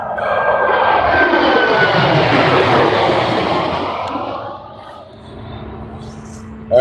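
An American Airlines Boeing 737 Max 8 jet takes off from a short runway at Burbank, a loud roaring engine rush that swells, holds and then fades into the distance.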